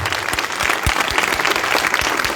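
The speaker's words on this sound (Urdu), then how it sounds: "تالیاں بجائیں۔" Congregation at a revival night church service in Chak AmratNagar, Mian Chano, applauding loudly, a dense steady wash of many hands clapping throughout with no talk.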